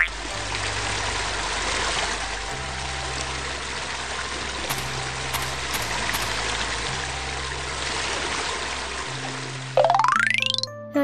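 Water runs steadily from a faucet in a children's cartoon, a continuous splashing stream set against soft background music tones.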